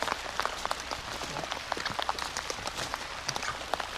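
Steady rain falling outdoors on a farm with pumpkin crops, a dense even patter with scattered sharper drops on surfaces, continuous and moderately close with no talking.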